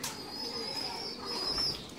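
Soft, continuous cooing from domestic Turkish-cross pigeons raising squabs in a nest box, a low steady murmur close by with no voices.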